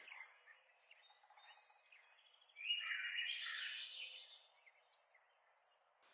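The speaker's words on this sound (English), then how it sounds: "I also find the alarms on this feature are a bit nicer than the stark alarms" Soft, tinny birdsong with chirps and warbling trills from an iPhone alarm, played at low volume against near silence through a small phone speaker.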